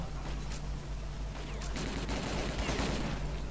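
Grenades go off in the shooter game S.T.A.L.K.E.R.: Call of Pripyat as a burst of sharp blasts and crackling gunfire over a steady low ambient hum, fairly faint and mixed with distant combat noise.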